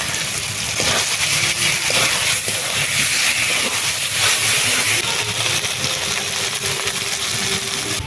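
Peeled prawns drop into a pan of frying spice paste, setting off a dense, loud sizzling hiss that holds steady, with scattered clinks and scraping from the pan, no voices.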